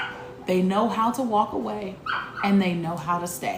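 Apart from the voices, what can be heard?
dog barking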